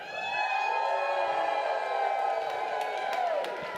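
At a social media keynote, an audience stands and cheers on a countdown, a sustained roar of whoops, yells and scattered claps from a large crowd.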